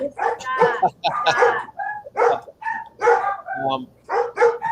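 Dogs bark and yip indoors as a guest arrives, the barks mixed in with steady conversation that runs nearly the whole time.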